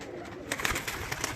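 Speeder pigeons, a homing breed, sound off in a short burst of bird calls with soft fluttery noise over a steady background, close and moderately loud, no voices.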